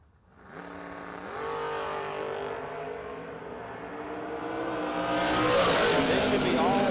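Drag race cars at a million-dollar bracket event rumble at the line, then roar loudly as they launch and accelerate, engine pitch climbing steadily with a harsh high-end blare toward the end; an announcer's voice carries over parts of it.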